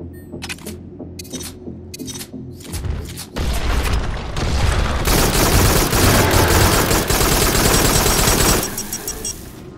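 Rapid gunfire and heavy grenade launcher blasts from the sci-fi shooter video game Farpoint, starting with clipped bursts and building into a dense, loud, continuous barrage of shots and booms.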